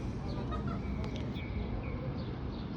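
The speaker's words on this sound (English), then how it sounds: "All different bird calls, so yeah, it's a mockingbird." A mockingbird sings varied, quiet chirps and short calls outdoors at sunset in a light breeze, scattered brief notes over a soft background hiss.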